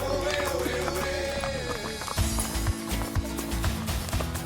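Horse hooves clop on the ground at a walking pace along the Route Napoléon in the Hautes-Alpes, France, uneven thuds under a steady background of music and hum.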